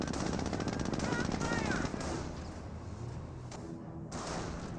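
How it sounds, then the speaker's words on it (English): Distant rifle fire from G43-armed Panzer Grenadiers in Company of Heroes crackles at low level in the first two seconds, faint pops under a commentator's steady talk and game ambience. "Engineers see a bit of fire there from the G43 Panzer Grenadiers"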